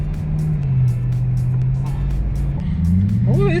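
A car cruising slowly around town with its brakes being tried, giving a steady close engine hum that dips and then climbs toward the end, with no talking over it.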